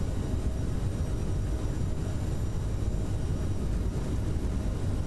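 A CRJ700 jet taking off in Microsoft Flight Simulator gives a steady, loud, broadband engine roar that holds constant throughout with no voices.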